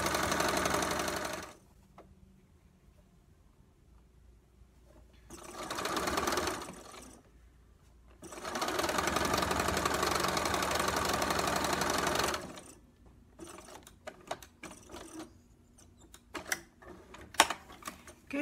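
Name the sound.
sewing machine stitching fabric pieces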